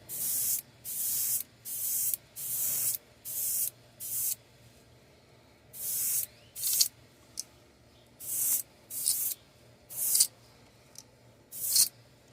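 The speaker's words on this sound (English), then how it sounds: "we're just going to kind of mist it down around the gill plates" An airbrush mists paint onto a bluegill fishing lure in a dozen or so short, sharp hissing bursts of about half a second each, close and loud with brief quiet gaps between them.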